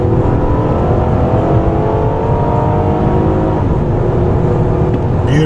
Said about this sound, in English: they make some of the sweetest engines on the planet. Great sounds at high RPM.